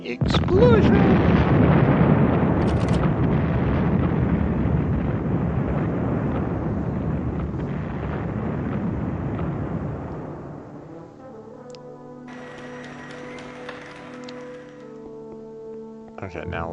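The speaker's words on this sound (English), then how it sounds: "explosion!" An explosion in the video game Evil Genius, a loud booming blast with a rumbling tail that fades over several seconds, followed by quieter game tones and electronic chimes.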